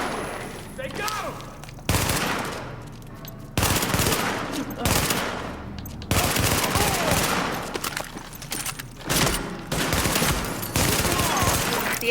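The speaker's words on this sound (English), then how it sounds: "The escort party's taking heavy fire from the roof." Heavy rooftop gunfire in The Division video game: dense, sustained automatic bursts and fusillades crackle loudly across the whole stretch, with shouted voices mixed in among the shots.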